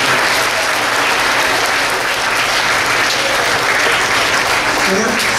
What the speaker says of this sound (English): How about another round of applause for our fifth grade presenters?